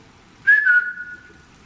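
A single clear whistled note, rising briefly then holding steady and fading over about a second, against a quiet background.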